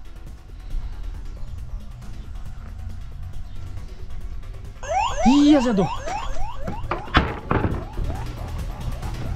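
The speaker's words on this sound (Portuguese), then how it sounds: "disparou o alarme" A Chevrolet Chevette car alarm suddenly blares with rapid warbling, sweeping siren tones that last a few seconds, followed by thumps and background noise as someone speaks.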